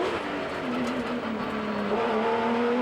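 A Porsche rally car engine recorded onboard, loud and close, pulling through the revs with a rising pitch that drops back as it shifts and climbs again.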